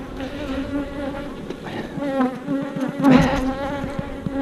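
Honeybees buzzing close up during a monthly hive inspection, a dense continuous drone with fluctuating pitch and intermittent clicks and bumps of handling.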